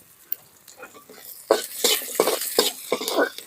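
Garlic and coriander roast in a pan with a soft sizzle and repeated scraping stirs, close by, while someone talks quietly at times.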